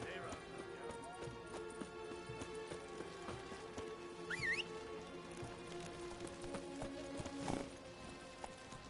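Horse Roach's hooves clip-clop at a run in The Witcher 3, a steady galloping patter under a busy game soundscape with music and other effects, and a voice speaks during it.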